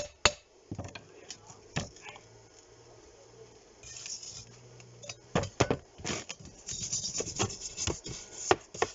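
A worn wire brush scrubbing a steel weld seam, starting with sparse strokes, then turning into dense, loud rasping scrubs in the second half.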